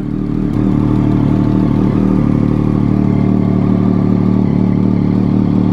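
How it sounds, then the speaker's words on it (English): Triumph Daytona 675R three-cylinder sport bike engine heard while riding, a steady loud drone with dense harmonic buzz holding at constant revs throughout, close and continuous with no talk. "This thing sounds amazing because it's a 3-cylinder bike."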